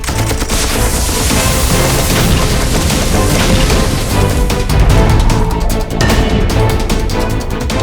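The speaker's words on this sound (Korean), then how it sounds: "연발 미사일 발사! 로켓포 발사." Rapid missile volleys and rocket launcher blasts from an animated robot battle in MiniForce: loud, dense bursts of booms and crackling fire run continuously, with heavy impacts swelling near the middle.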